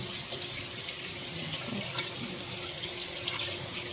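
Tap water runs steadily over scalded meat being rinsed in a kitchen sink for red peas soup, a continuous close hiss and splash with small shifts as the meat moves, no one speaking.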